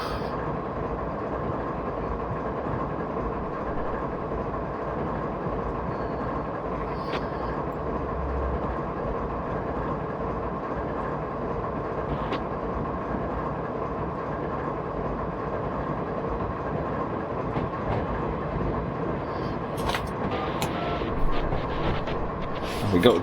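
Steady low rumble and rolling wheel noise from a long BNSF freight train hauled by an ES44DC locomotive in Train Simulator 2018, continuous and fairly even throughout, with faint clanks and a slight swell toward the end.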